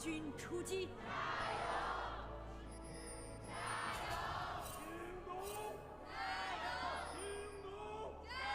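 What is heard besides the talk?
Jingdong esports crowd chanting led by chant leader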